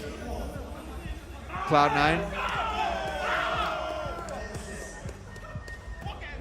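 A crowd at the Arlington Halo Major esports grand finals cheers and roars in a large arena, the swell rising sharply and then lingering as a broad hubbub while a caster speaks over it.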